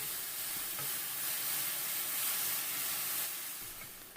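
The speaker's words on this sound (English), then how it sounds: "Now I'm going to saute this for around 10 minutes or until the onion and celery are" Onion and celery sautéing in a pan for cornbread dressing, a steady, fairly loud hissing sizzle that swells slightly and then eases, with no voices.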